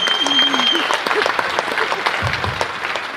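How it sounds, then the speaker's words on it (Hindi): Audience applause at a panel discussion, a sustained wash of clapping lasting the whole moment, with a voice speaking over it. "जोरदार तालियां, जोरदार तालियां।"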